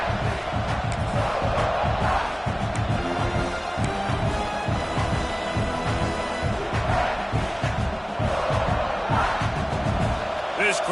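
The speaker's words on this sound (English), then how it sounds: "This crowd rising up, sensing that its defense needs some help" A football stadium crowd rises into a loud, sustained roar of cheering to urge on its defense, a dense wall of voices with scattered whoops and thumps that never lets up.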